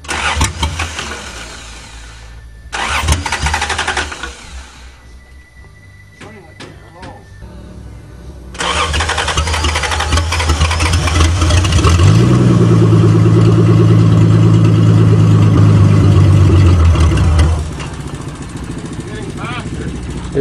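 A 1982 Toyota Cressida engine cranks, fires and settles into a loud, steady idle close by, with an earlier failed cranking attempt; people talk over it.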